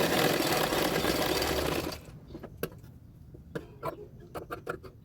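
Sewing machine stitching blouse fabric, a loud continuous mechanical whirr for about two seconds, then stopping, followed by scattered quiet clicks and handling taps.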